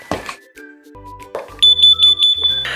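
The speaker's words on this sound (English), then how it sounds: "If you hear 4 loud beeps, that means CO is in your home." A carbon monoxide alarm sounds a run of loud, piercing electronic beeps in quick succession, coming after a few softer tones and standing alone with no talking.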